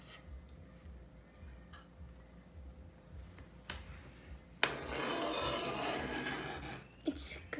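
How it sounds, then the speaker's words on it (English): Spoon or knife scraping the flesh out of an eggplant halved for Greek stuffed papoutsakia, a soft rasping that turns into a louder, steady scrape in the second half, close by with no talking. "It's scraping."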